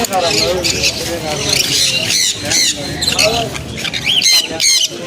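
Loud, constant squawking and shrill calls from many caged pet birds at a busy market in Shrirampur, overlapping with voices talking nearby.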